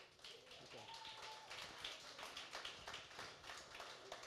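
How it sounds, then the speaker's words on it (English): Audience in a musicians' masterclass in Austin, Texas, gives a panel a round of applause, a scattered, fairly faint patter of clapping with a few distinct claps, and a voice briefly heard near the start. "Thank you, guys. Once again, big round of applause."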